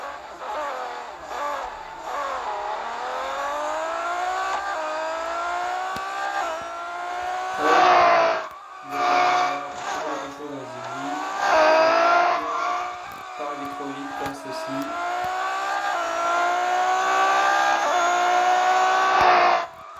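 A car drifting in the racing game Real Racing 3, engine revving up through rising gear sweeps with brief drops between shifts and tire squeal, loud and continuous with no speech.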